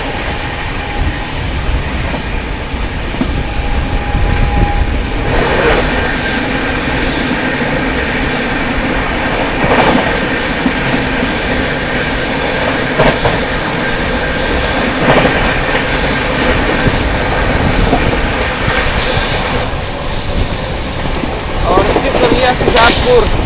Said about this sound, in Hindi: अजमेर से चलकर शियालदा को जाने वाली Ajmer Sealdah super fast express